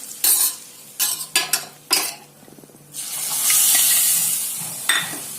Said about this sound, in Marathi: त्याच्यावर फोडणी टाकून घ्यायची आपल्याला भाजीवर.